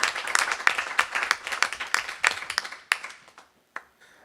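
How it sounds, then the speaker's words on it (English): A small audience claps for a girls soccer team at a school business meeting, scattered handclaps that thin out and fade to a few isolated claps near the end. "can we give our girls soccer team a round of applause?"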